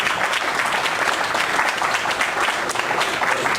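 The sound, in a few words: audience round of applause for Charlie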